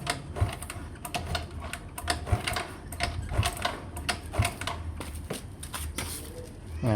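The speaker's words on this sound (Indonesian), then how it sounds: "ini coba saya tes engkol lagi ya, kita panggil engkolnya" A Yamaha Mio M3 scooter that has lost compression and will not start is cranked by its kick-starter. Rhythmic mechanical clacking repeats with a dull thump roughly every second, close and moderately loud.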